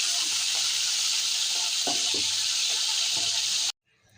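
Pomfret fish fries in about half a cup of white oil in a wok, a loud steady close sizzling hiss with a few faint pops, cutting off abruptly near the end.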